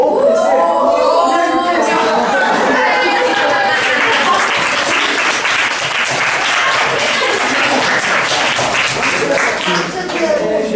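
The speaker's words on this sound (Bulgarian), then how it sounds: "Заслужихте си аплодисментите" Students applaud in a school chemistry class, a dense, steady wash of clapping filling the room for about ten seconds, with some voices mixed in beneath it.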